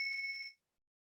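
A bell rings as one clear, steady, faint tone that holds for about half a second, then stops abruptly into silence.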